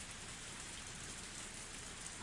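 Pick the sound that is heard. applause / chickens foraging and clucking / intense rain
intense rain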